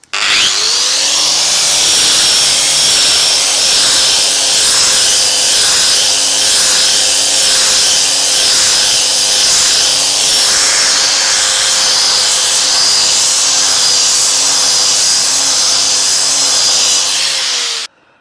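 An angle grinder polishes a concrete countertop, exposing the aggregate: a loud, steady, close-up whine with a rough grinding rasp that spins up, holds nearly level for about seventeen seconds, then cuts off.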